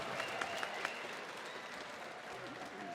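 A fight-arena crowd applauds both fighters after a bout, with a few sharp claps up front over a broad, fairly distant wash of clapping and cheering that carries on steadily.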